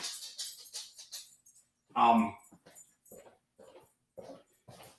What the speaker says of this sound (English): You are a good guard dog.